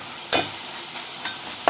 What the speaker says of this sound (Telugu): చూసారా టమాటా ముక్కలు కూడా చక్కగా ఎలా మగ్గిపోతున్నాయో